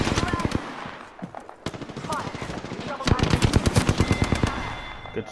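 Rapid automatic gunfire with disruptor rounds in Apex Legends, loud and close, coming in quick rattling bursts with short gaps between them.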